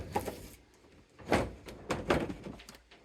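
The door of a small robot combat test box for plastic kit bots is shut. Several soft thunks and rattles sound close by but quietly, with brief gaps between them.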